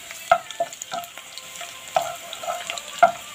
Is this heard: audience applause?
no